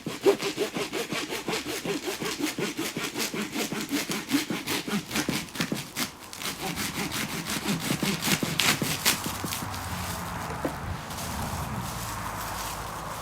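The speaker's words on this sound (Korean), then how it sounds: "이걸 톱을 이용해 가지고 이제 하나하나" Steady rhythmic rasping of a hand saw pushing and pulling through the wood of an air-layered bonsai, close and continuous, strokes gradually changing in tone toward the end.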